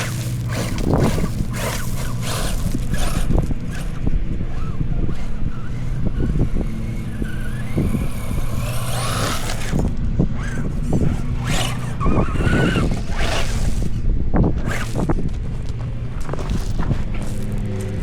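An RC4WD Trail Finder 2 Xtra Cab Flatbed RC truck runs in second gear through White Oak Park, its close electric motor whining steadily over a continuous crunch of tires on rough ground, with no talking.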